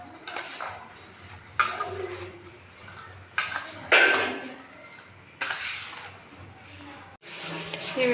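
Black chickpea chaat being mixed with vinegar and chili sauce, heard as soft scraping and clinking of a spoon in a bowl, in a few sharper bursts over a steady background of kitchen noise.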